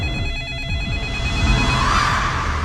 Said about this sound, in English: In every horror movie, there is a phone waiting to ring.